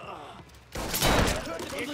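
Burst of rapid gunfire from the Mafia III video game, a dense, loud crackling fusillade breaking in after a quieter start and continuing to the end, with a voice talking underneath.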